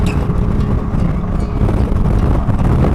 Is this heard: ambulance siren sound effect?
no